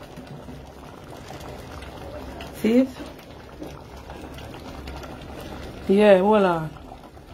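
Curry with pig's tail bubbles in a pot, a low steady simmering hiss and gurgle running throughout, while people talk briefly over it in two short bursts.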